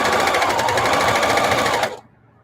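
A sewing machine stitches quilted casserole pads, running in a loud, close, steady whir for about two seconds before stopping abruptly into near silence.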